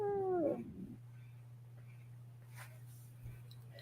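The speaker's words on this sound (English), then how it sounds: "And Dan, those cats they'll brave the cat flap eventually." A cat gives a short, fairly close meow at the very start, then falls quiet against a steady low hum and faint background noise.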